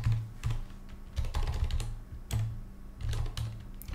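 Typing on a computer keyboard while entering a command to run a Python Discord bot script; several close bursts of keystrokes with brief pauses, no voices.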